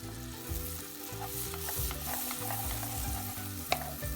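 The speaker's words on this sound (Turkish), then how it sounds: "Soğanlarım iyice terleyecek." Chopped onions sizzle and sweat in a hot pan as the base for a pasta sauce, with a steady frying hiss and repeated low scraping strokes of stirring throughout, and no voices.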